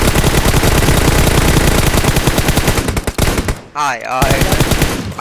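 Continuous heavy automatic gunfire in PUBG Mobile, loud overlapping bursts with a brief lull, while a voice briefly exclaims over the shooting.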